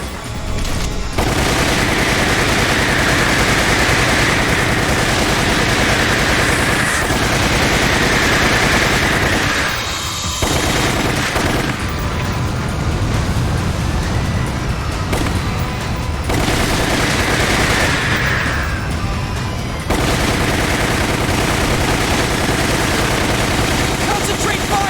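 Dense, continuous gunfire fills a shooting sequence in Resident Evil: The Umbrella Chronicles on Wii, loud rapid bursts and booms running almost without break, with brief lulls and a voice speaking under the shots.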